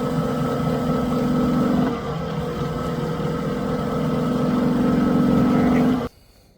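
A wood lathe spins a silver maple bowl at about 1350 RPM during polishing, giving a steady, loud motor hum with a drone that holds throughout, dips slightly near two seconds, then cuts off abruptly at the end.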